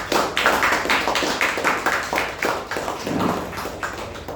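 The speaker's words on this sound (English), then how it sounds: "So for this well-deserved honor, let's give a huge round of applause to Toastmaster Bharat." Several people clap together in applause at a Toastmasters meeting, a fairly loud, steady patter of claps that holds throughout without talk.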